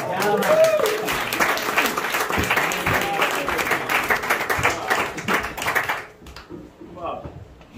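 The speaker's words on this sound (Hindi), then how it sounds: "आपकी भरपूर तालियों में आज की महफिल के मुंतजिम जनाब एहसान शाहिद साहब" An audience at an Urdu poetry mushaira claps steadily in a hall for about six seconds, the applause mixed with voices before it stops abruptly and leaves faint room sound.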